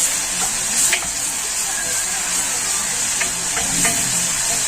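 Bread frying in a pan before vinegar is added for Egyptian fatta with vinegar and garlic, giving a steady close sizzle with light stirring scrapes and soft crackles throughout.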